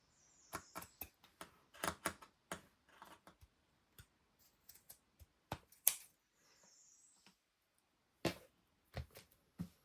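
Scissors snip through a scrappy junk journal cover, a string of sharp close cuts and crisp clicks in irregular bursts separated by short quiet gaps.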